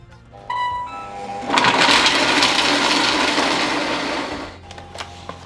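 A Wonderchef food processor with its multifunction blade starts with a whir, then grinds coconut chunks in a loud, rough churning roar for about three seconds before spinning down to a quieter hum.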